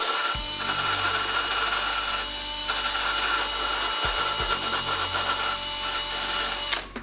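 A power tool grinds down welds on a crashed BMW M5 bodywork, running steadily and loudly for several seconds with brief dips where it bogs or lifts off the metal, then cutting out at the end.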